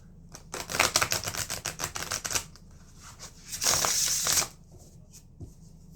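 A Tabula Mundi tarot deck is riffled and shuffled by hand in two bursts of rapid, crisp card flutters, loud and close, with a quiet pause between them and no talking.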